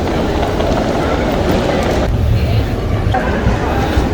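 An airport train carrying passengers toward the departure gates rumbles steadily with a rhythmic clatter of wheels, heard from inside the car, with voices faintly underneath.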